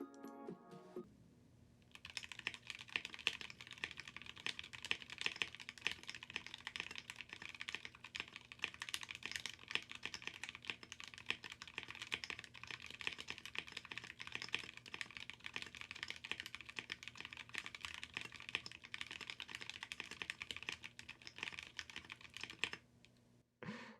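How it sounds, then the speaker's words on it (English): Continuous mechanical keyboard typing on an ID80 Crystal Edition, a dense run of close, crisp keystroke clacks lasting over twenty seconds, alone and steady after a brief quiet start. "let me finish this stream with one more typing sound."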